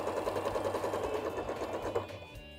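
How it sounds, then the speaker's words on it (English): A domestic sewing machine stitches down the length of a seam for a Hong Kong finish, a fairly quiet, steady rapid clatter of the needle over a soft motor whir, slowing and stopping near the end. "sewing down the length of the seam"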